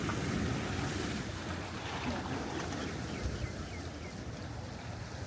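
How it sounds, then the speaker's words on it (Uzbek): At night on the Red Sea shore, waves wash in a continuous low, faint rush, mixed with wind buffeting the microphone and no talk. "Do'stlar, bu Qizil dengiz."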